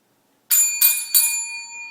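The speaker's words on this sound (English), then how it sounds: "Ring the bell." Three quick bright rings of a small bell, struck in rapid succession, each leaving a clear metallic ring that fades into silence.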